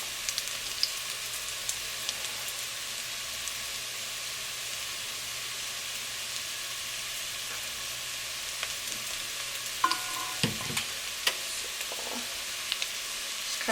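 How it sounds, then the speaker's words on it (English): Ginger, garlic and honey stirred in a pot over heat for a minute while they sizzle: a steady, fairly soft frying hiss with a few light scrapes of the spoon near the end and no talking. "you're gonna stir that up for about 1 minute"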